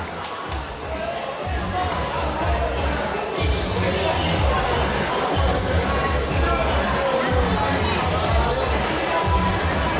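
A crowd at a kickboxing fight between Janos and Rodney roars and applauds continuously, a loud, sustained mass of cheering and babble with a heavy low rumble throughout.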